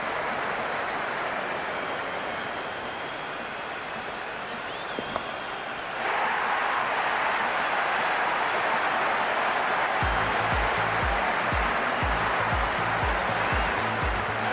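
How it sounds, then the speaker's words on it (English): A stadium crowd in the Cricket 26 video game roars in a steady, dense wash of cheering that swells louder midway, with low rhythmic thumping joining near the end. "The crowd is electric right now"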